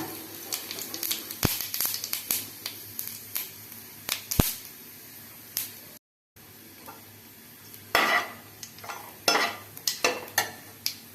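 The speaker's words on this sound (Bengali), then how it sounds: "আর দেব সামান্য জিরা" Cumin seeds sizzle and crackle in hot oil in a wok, with sharp stirring clinks and scrapes against the metal, a brief gap midway, no talking.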